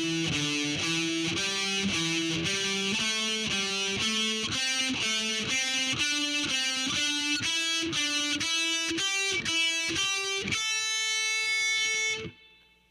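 Slow heavy metal lick on an electric guitar, a run of distinct picked notes stepping in an even rhythm, each note ringing with harmonics, ending on a sustained held note that is abruptly cut off.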